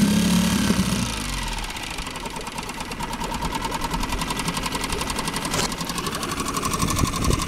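A boat's engine runs steadily with a fast, even mechanical chatter and vibrating knock, starting with a brief low rumble, then holding at constant loudness for over seven seconds with no talking.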